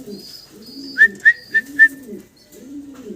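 Cream bar and drop cream pigeons, both moulting, coo in low, looping phrases close by, with four short high chirps in a quick run partway through.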